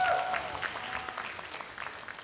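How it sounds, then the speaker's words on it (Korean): A church youth congregation claps to thank the orchestra after a sermon reading. The applause is brief and moderately close and fades out over about two seconds. "우리 오케스트라 수고했는데 다시 한번 우리 감사의 박수 한번 부탁합니다."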